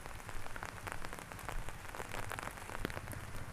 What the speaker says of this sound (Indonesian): Rincik hujan.